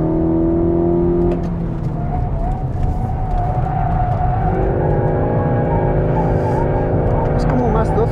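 A 2022 Skoda Octavia RS Combi accelerating, its engine droning and rising in pitch from inside the cabin, steady and fairly loud, with a voice talking over it.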